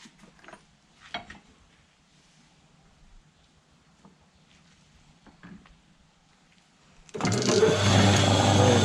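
A packing machine for a one-inch bamboo rocket starts suddenly after faint scattered knocks and then roars steadily, loud and close.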